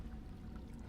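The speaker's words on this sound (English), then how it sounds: "I'm hearing some water right now." Water flows faintly in the Soviet sci-fi horror game Lysa Hora near a river, a low, steady wash with no voices.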